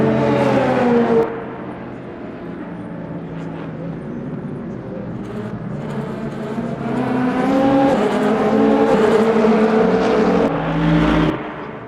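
LMP2 prototype race cars roar in the sim racing game Le Mans Ultimate during the 24 Hours of Le Mans, loud engine notes droning and shifting pitch as cars pass and accelerate, continuous without speech.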